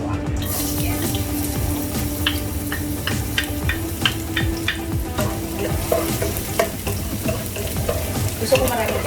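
Garlic sizzling in hot oil in a wok, a steady crackling fry with scattered sharp stirring clinks and scrapes, close and continuous with no talk.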